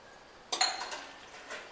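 A cup, spoon and glass clinking together while coffee is made, a short bright clatter of ceramic and metal that rings briefly then fades, fairly quiet.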